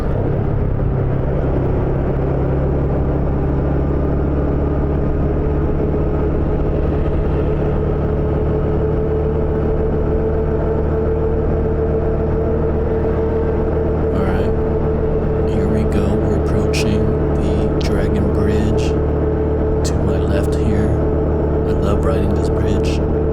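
Vehicle traffic crosses Dragon Bridge in Da Nang, a loud continuous rumble of engines and tires that holds steady throughout, with brief clicks and taps late on.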